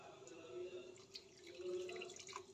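Water poured from a tap or vessel into a pan of curry cooking in a home kitchen, a soft steady splash running throughout under faint background talk.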